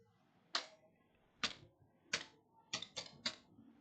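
Keystrokes on a computer keyboard while typing code: a handful of sharp, separate taps spaced about a second apart, then a quick run of three near together, close and clear in a quiet room.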